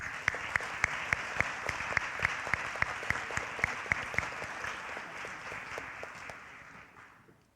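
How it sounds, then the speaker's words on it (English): Applause fills the room at a 2025 senior awards ceremony, with one nearby person clapping sharply in a steady, regular beat over the crowd's wash before it all tapers off and fades. "One more round of applause, please"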